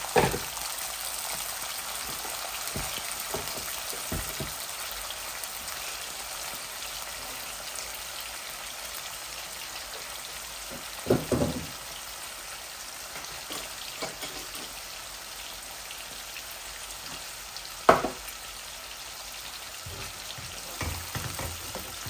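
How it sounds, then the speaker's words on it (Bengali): Onions fry slowly in a pan with a little water, producing a steady, moderate sizzle and crackle throughout, broken by a few brief clinks and stirring knocks. "পেঁয়াজটা আস্তে আস্তে ভাজা ভাজা হোক।"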